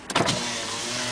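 After a short thump, the electric power window motor of a 2001 automatic Honda Civic hums evenly inside the car, a close, steady whine lasting about a second.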